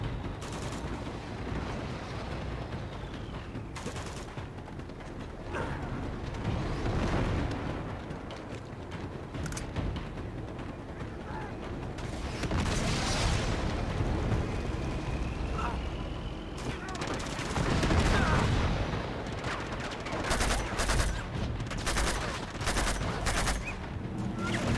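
Bursts of gunfire from the video game Uncharted 2: Among Thieves, sustained, dense shots and rattling volleys rolling on and off throughout, fairly loud, with a voice talking at times.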